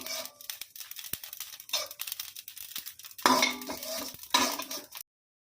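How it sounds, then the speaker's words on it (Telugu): Cumin seeds roasting in a pan with a little oil are stirred in bursts, a spoon scraping and clinking against the metal with soft rustling between strokes, close and fairly quiet. "జీలకర్ర కూడా వేసి వేయించుకుందామండి"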